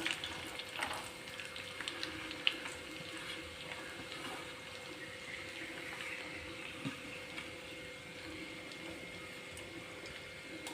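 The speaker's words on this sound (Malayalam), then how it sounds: "രണ്ട് കപ്പ് തേങ്ങാക്കൊത്ത് എടുത്ത് വെച്ചിട്ടുണ്ട് ഇനി അത് ഒന്ന് നന്നായിട്ട് വറുത്തെടുക്കണം" Continuous sizzling of coconut pieces frying in a pan until brown, a bright crackle with occasional scrapes and clinks from stirring.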